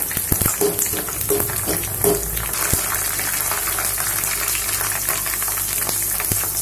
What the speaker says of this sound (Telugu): ఈ విధంగా ఒక 5 నిమిషాలు ఫ్రై చేసుకుందామండి